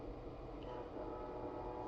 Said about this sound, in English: You hear that? You hear that, train?